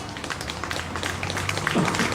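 Applause from a church congregation, a brief busy patter of clapping that swells slightly toward the end, with a faint voice underneath.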